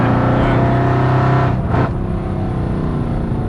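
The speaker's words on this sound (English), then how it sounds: "Those downshifts are brutal. So that's the IPE headers with the Capristo catback." A loud supercharged Mercedes C63 AMG engine, over 700 bhp, drones with a heavy exhaust note through headers, dipping briefly as it downshifts, a steady low rumble throughout.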